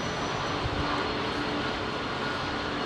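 A Boeing 737 Max airliner passes low over runway 27R at London Heathrow, a steady, loud broadband engine roar filling the whole stretch without letup.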